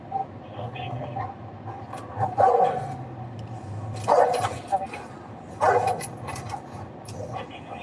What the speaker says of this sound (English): Do you hear that poor dog?